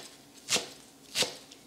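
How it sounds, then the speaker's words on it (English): Two crisp knife chops through baby spinach land on a cutting board about half a second apart, quiet and close, with no talking. "We're just going to take a few at a time and chop them up."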